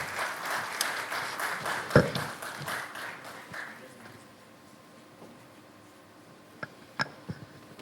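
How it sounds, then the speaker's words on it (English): Applause from an audience, steady at first and fading over several seconds, followed by a few sharp isolated claps. "Please put your hands together for him as he comes up to speak to us this morning."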